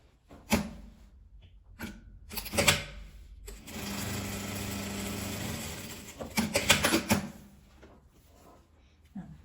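A domestic sewing machine stitches fabric patchwork in short bursts, then a longer steady whirring run, with clicks and handling noises between passes, close and fairly quiet.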